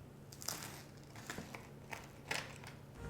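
Crisp crunches as teeth bite into a vegan BBQ chickpea sandwich, a few separate bites spread across the moment, close and fairly quiet with no talking.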